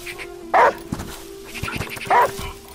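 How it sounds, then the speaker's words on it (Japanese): Dog in the video game Last Day of June barking after being called: two sharp, loud barks about a second and a half apart, close by, over a steady low hum and soft game sounds. "まず犬を呼ぶ。"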